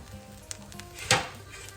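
Fried rice being stir-fried in a pan: a soft, steady sizzle with a few light clinks and one sharper scrape of the utensil against the pan.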